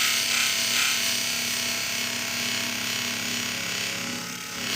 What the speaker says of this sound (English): And the blue compound really puts a nice polish on it.